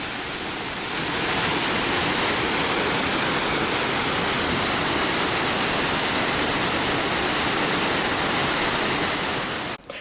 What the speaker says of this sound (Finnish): koska putouksesta roiskuu suoraan vettä siihen kävelyreitille